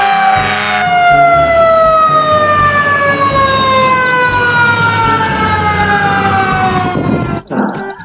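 A loud toy fire truck siren blares continuously with a slowly falling pitch, cutting off abruptly near the end with a brief clunk.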